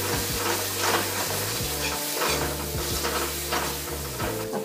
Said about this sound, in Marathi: तोही तेलावर चांगला परतवून घ्यायचा.